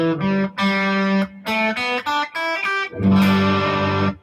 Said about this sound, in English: That's the sound of the major pentatonic scale going up.